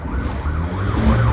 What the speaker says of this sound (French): Ah, un klaxon, toi. On dirait que c'est un train qui arrive. Mais non, c'est un truck.